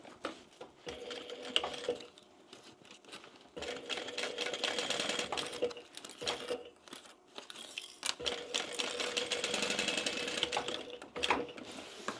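A sewing machine stitches across the seam of a bag in several bursts of rapid mechanical whirring, separated by short pauses, close and moderately quiet, with no talk.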